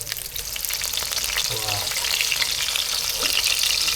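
Small shrimp vadas fry in hot oil in a pan on medium heat, a steady loud sizzle throughout with faint scraping as they are turned over, no talking.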